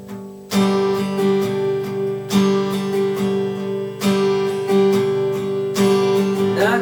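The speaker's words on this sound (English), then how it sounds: "that's how the strumming pattern would sound with the song" Acoustic guitar strummed in a steady down-stroke pattern for a song, with bright, close chords that ring on and accents marking each new bar, played alone without singing.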